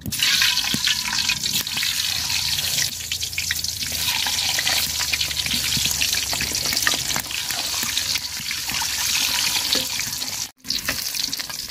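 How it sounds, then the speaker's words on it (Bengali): A country-chicken egg frying hard in oil seasoned with salt and turmeric, a close continuous sizzle with scraping stirs against the pan, running steadily throughout, briefly cutting out near the end. "তো ডিমটি কড়া করে ভাজা নিচ্ছি,"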